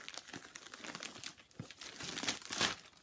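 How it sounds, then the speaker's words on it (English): Crinkly rustling of packaging from a Think Pink Sewscription fabric subscription box being unboxed, with close, continuous crumpling and crackling bursts that grow louder toward the end. "So you hear the rustling."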